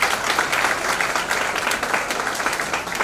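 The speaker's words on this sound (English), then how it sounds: "really they need a great round of applause" An audience at a state-level CA students conference in Kumbakonam gives a round of applause for the volunteer team, dense sustained clapping filling a hall at an even level for a few seconds.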